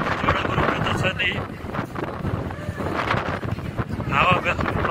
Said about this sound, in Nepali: हावा कस्तो चलिरहेको छ, सबको कपाल उडिरहेको छ।